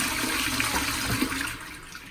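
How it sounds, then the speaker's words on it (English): A toilet in Odesa, Ukraine, flushed with a wall-mounted button, gives a loud, close rush of water that stays steady for about two seconds and then eases slightly as it drains. "You don't flush it at the toilet, you flush it at the wall."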